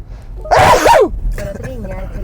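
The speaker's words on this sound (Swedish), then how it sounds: "Jag nös bara" A single sharp, loud sneeze bursts out inside a car during an electric-vehicle range test of a Ford Mustang Mach-E and a Polestar 2, followed by quieter talking and cabin noise.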